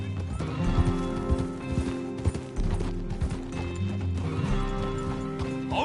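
Horse hooves clip-clopping and galloping in Red Dead Redemption 2, loud and close with snorts and whinnies over a low music bed, rhythm shifting as the horse slows and speeds.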